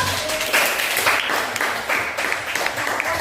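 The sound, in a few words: students clapping hands in class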